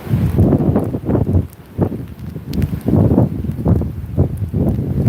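Strong gusty wind roars in repeated surges during an ice storm with sleet and freezing rain, loud and close across the microphone with no voices.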